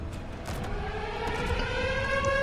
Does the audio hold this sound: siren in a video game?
yes